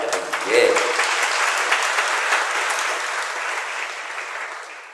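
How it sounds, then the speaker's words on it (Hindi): Sustained clapping from a seated audience at a Jain religious sermon, a broad steady patter that swells early and holds evenly for several seconds before tapering slightly, with no talking over it. "ये बीच बीच में तो आप लोग ताली बजाते हैं ना"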